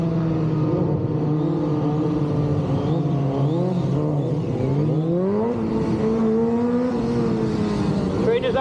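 Motorcycle engine revving loud and close during a stunt wheelie at a Scottish bike show, pitch swooping up and down through throttle changes, with a voice talking over it.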